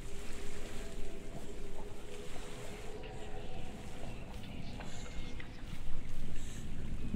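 Flowing water in the video game Hellblade: Senua's Sacrifice rushes steadily as a dense, constant wash of noise, with slight swells and splashy surges throughout.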